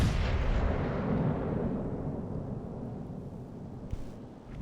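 Battleship secondary guns fire in World of Warships Legends, heard as a dense, rumbling barrage of booming naval gunfire that slowly fades, with one sharper report near the end.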